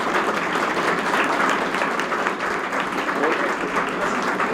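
Steady applause fills the room at a welcoming ceremony in an academy hall, a dense, continuous crowd clapping that sounds close and carries evenly throughout.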